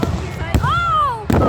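Fireworks burst at a show after a Cougars game, loud sharp booms at the start and end with a crackling whistle trailing between them, heard close and loud over a crowd.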